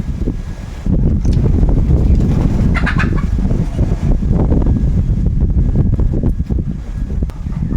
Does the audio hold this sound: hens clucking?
yes